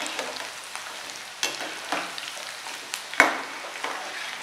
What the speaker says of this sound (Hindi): फ्राई करते करते अभी हम उसको ऐसे